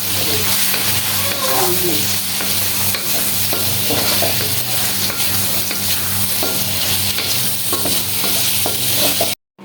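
Food cooking in oil left over from frying hilsa fish, with ginger and potatoes going in, a loud constant sizzle and crackle broken by stirring scrapes, close up, cutting off abruptly at the end.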